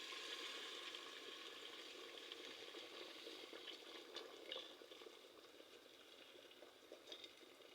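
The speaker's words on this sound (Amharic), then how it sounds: "የፈላ ውሃ ለዶሮ ማብሰያ የሚበቃውን ያህል እናደርግበታለን" Boiling water poured into a cooking pot over chicken for rice kabsa, a faint bubbling and sizzling wash with small splashes and stirring, quiet and close, without talk.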